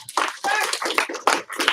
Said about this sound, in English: give him 1 clap, 2 stomps, and then you rock